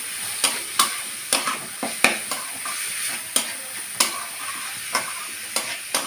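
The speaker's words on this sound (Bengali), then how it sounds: "এবার আমি থোরটা দিয়ে দিলাম, দিয়ে এটাকে নাড়াচাড়া করে নেব" Chopped banana stem stirred into fried spice paste in a pan: a rhythmic series of distinct spatula scrapes about every half second over a soft, continuous sizzle, close and clear.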